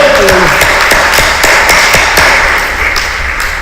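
Steady congregation clapping fills a church, dense and continuous, with a few sharper individual claps standing out.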